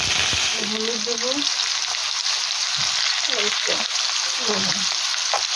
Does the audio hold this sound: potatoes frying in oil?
yes